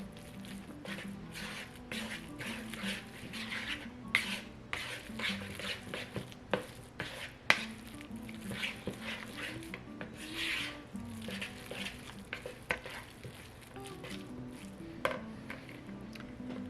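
Food being stirred in a bowl with a utensil, mixed with grated Parmesan cheese during meal prep, making a steady run of scraping, rubbing and light knocking sounds, close and fairly quiet, with a few sharper taps throughout.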